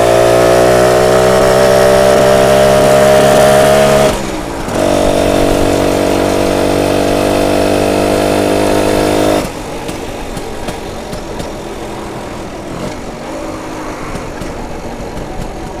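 A BSA Bantam 175 motorcycle engine running with the choke on, a loud close buzzing two-stroke drone that holds steady, dips briefly, then drops to a rougher, lower idle for the last several seconds.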